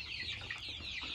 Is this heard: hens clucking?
yes